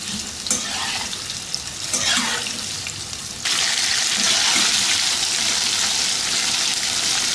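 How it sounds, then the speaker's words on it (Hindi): Chicken cubes deep frying in hot oil, a loud continuous sizzle and crackle that surges brighter and stronger partway through, with no talk. "सबसे पहले अब इस चिकन को फ्राई कर लेंगे।"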